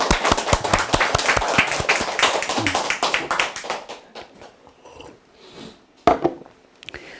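A lecture audience bursts into brisk, close clapping that stays dense for a few seconds, then thins out into scattered claps and fades, with one last sharp clap near the end.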